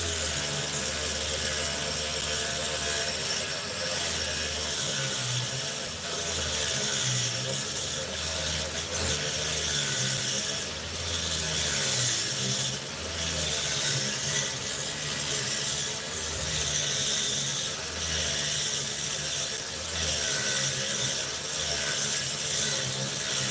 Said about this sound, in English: someone messing around with a Dremel from the looks of things